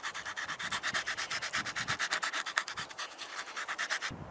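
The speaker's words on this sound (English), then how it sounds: "now it's time to take some sandpaper and make it really smooth" Sandpaper rubs over a carved wooden spoon in quick, even back-and-forth strokes, a close rhythmic scratchy rasp that keeps going alone until it stops abruptly near the end.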